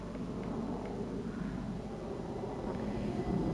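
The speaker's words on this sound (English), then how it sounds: "We might see another plane." A plane flies overhead in the Train Sim World 2 video game, a low continuous rumbling drone that stays steady and slightly swells toward the end.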